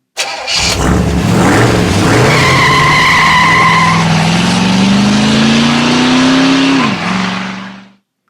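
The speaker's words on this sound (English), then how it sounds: "And here's the racing sound effect here." A loud racing engine effect from a toy truck: a starting roar, squealing tires and a rising engine whine that peaks, drops, then fades out.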